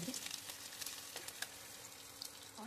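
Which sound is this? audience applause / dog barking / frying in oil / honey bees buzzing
frying in oil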